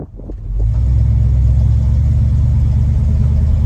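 An old pickup truck with a newly installed radiator starts up and settles into a loud, steady low rumble as it drives along, close by and continuous.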